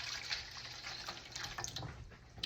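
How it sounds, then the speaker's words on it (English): Warm water pours into a bowl for bread yeast during hand kneading preparation, a soft, steady splashing trickle heard alone and fairly quiet. "Now we're going to add our warm water."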